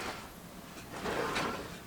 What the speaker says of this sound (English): We've got all these slide out drawers.